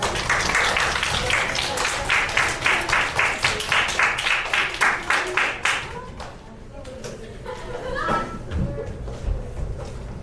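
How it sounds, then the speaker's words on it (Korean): An audience at a winter youth camp concert claps in a strong, even rhythm to welcome a performer, the beats pulsing for several seconds before the clapping stops and a voice begins speaking over a quieter room. "임소정 리더님을 큰 박수로 맞아주세요"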